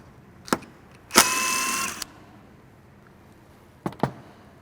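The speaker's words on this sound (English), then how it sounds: "Now grab a 3mm Allen, and we will pull all these guys out." A few sharp metallic clicks and a short grinding turn of a 3mm Allen key loosening a bolt on a Toyota Tundra front bumper, close by in a quiet room, with pauses between.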